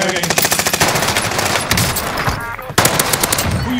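Rapid, loud automatic gunfire in a first-person shooter video game, bursts of quick shots nearly continuous with a brief pause before firing resumes, close and dominant.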